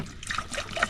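Water pours and splashes for a quick wash outdoors on an island, a short burst of trickling and spattering liquid heard close by.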